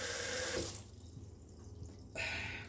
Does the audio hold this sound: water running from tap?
yes